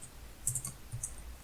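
A few light, close clicks from typing on a computer keyboard during Python programming, scattered keystrokes in a quiet room.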